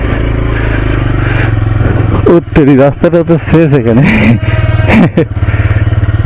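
A motorcycle rolls along a quiet, jungle-like forest road near home, its steady low engine drone running throughout while someone talks over it.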